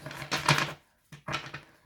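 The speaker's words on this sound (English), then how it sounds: "I'm going to shuffle these clarifiers as well" A deck of tarot cards being shuffled by hand in two short riffling bursts separated by a brief pause, crisp papery flutter close to the microphone.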